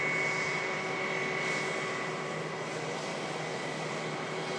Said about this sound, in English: Jet2, 321neo about to touch down.